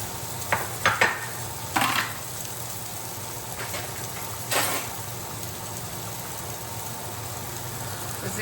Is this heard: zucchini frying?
yes